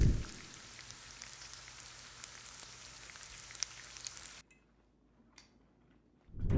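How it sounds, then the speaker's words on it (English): Bacon sizzles in a pan with a dense, crackling hiss full of tiny pops, sounding much like rain, steady at first, then cutting off abruptly to near silence with faint scattered crackles. "so that was actually bacon"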